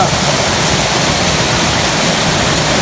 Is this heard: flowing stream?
yes